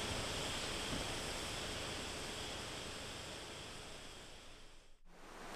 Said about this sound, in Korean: 우리나라에서 가장 높은 오장폭포가 동양화처럼 걸려 있습니다.